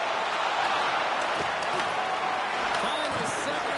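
Dense, steady roar of an arena crowd cheering at a home-team hockey game in NHL 26, loud and continuous with no break.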